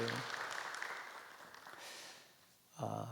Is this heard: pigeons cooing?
no